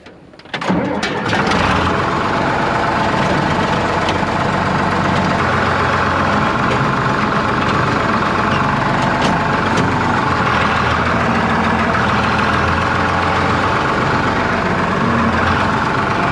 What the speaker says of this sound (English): So here we are in the 8430 and we're spreading gypsum